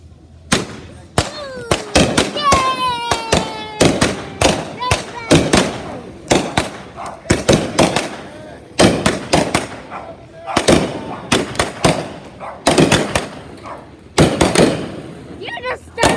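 Fireworks and firecrackers go off in a loud, irregular volley of sharp nearby bangs, some crackling and whistling as they rise, with people's voices occasionally heard between the blasts.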